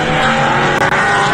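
A touring race car roars past the tower at Laguna Seca, its engine loud and close with a steady, high-revving drone through the pass.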